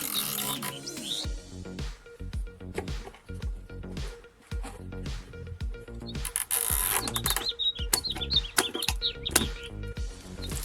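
Zip ties are ratcheted tight around a large spoon fixed to the end of a watering can, a run of quick clicking zips repeated close up with some light clatter.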